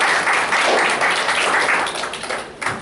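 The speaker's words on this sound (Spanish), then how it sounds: "damos nuestro saludo y bienvenida con un fuerte aplauso" An audience applauds, a dense, steady patter of many hands clapping that eases off slightly at the end.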